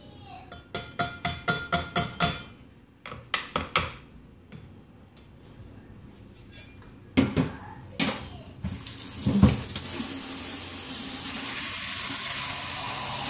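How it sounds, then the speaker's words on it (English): Lye water poured into a mixed soap batter: a run of sharp clicks and taps from handling the container, then a steady, close splashing pour that keeps going to the end. "I'm going to go ahead and add the lye water."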